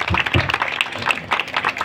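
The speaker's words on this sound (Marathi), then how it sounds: "त्यासाठी आपण जोरदार टाळ्या त्यांचं स्वागत करू" An audience at a felicitation gathering for a newly elected legislator claps to welcome guests, a burst of scattered hand claps at moderate loudness that rises and dips unevenly.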